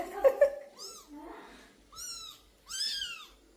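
A mother cat searching for her kitten gives a few clear, drawn-out meows from close by, separated by short pauses, with some brief soft vocal sounds at the start.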